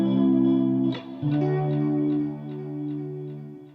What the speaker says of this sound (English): We've got the delayed sound on one side, the chorus reverb sound on the other side